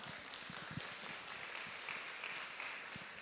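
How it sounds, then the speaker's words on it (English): An audience at a Buddhist talk on happiness gives a round of applause, soft and somewhat distant, a steady patter of clapping with a few sharper claps standing out near the start. "Round of applause."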